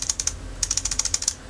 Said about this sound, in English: I'm using keyboard controls.